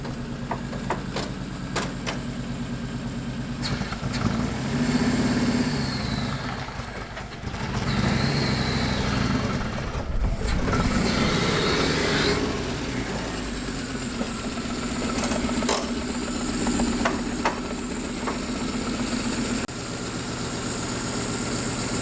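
Engine of an Audi-based buggy, running again after five years standing under a tree, starting off on a test drive: a low, steady rumble near the microphone, with a few dips and surges in level and no talking.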